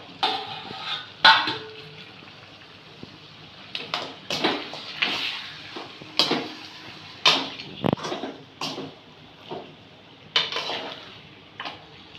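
Beef goes into a pan of ginger and garlic fried until golden, for a beef curry: a spatula scrapes and stirs against the metal in irregular strokes, with sharp clinks and a soft sizzle underneath, close up and without talk.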